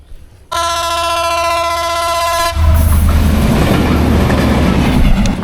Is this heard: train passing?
yes